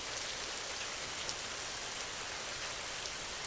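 Steady rain pours down, a dense even hiss of drops falling on a surface, constant and unbroken throughout.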